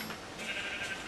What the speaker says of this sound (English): Don't kill the sheep, man! Black and white sheep.